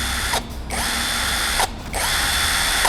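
A cordless drill whirs steadily at high speed, briefly dipping twice as the motor eases off and spins back up.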